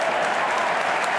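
A big stadium crowd at a Barcelona vs Sporting Gijon La Liga football match claps and stirs with excitement, a steady dense wash of applause heard briefly.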